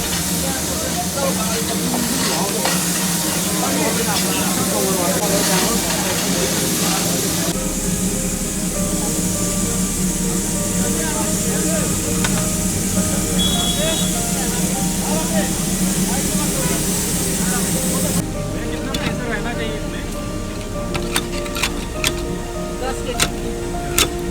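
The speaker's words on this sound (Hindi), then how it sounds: "ट्रेन के चलने से पहले ही इंजन में स्टीम को तैयार कर लिया जाता है" Steam hissing from a Darjeeling Himalayan toy train steam locomotive, a steady broadband rush that runs loud and continuous behind a low engine rumble, then drops away near the end, leaving scattered clanks and ticks.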